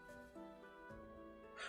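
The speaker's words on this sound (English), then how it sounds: "my cat just went mental" A domestic cat yowls indoors, a drawn-out, wavering tonal cry that rises and falls at low volume, with brief noisy shuffles between calls.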